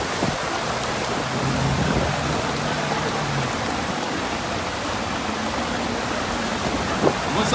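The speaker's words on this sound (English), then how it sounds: "the rain is starting to pick up in intensity again" Heavy rain falls steadily as a dense, even hiss throughout, with a faint low rumble underneath and a brief thump near the end; no one speaks.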